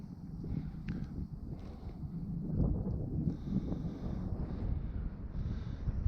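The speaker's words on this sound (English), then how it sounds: "Like I said, that wind is starting to pick up." Gusty wind blows around a hidden mountain fishing pond in southwest Virginia, a low rumbling buffet that swells and eases across the whole stretch, with faint higher whooshes on top.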